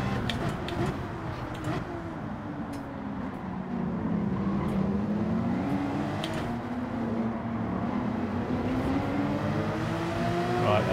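Race car engines in Gran Turismo 7 on a crowded final lap, a pack of several cars droning together, with pitches sweeping down through a corner and rising again on the exit, steady and close with faint ticking over the top.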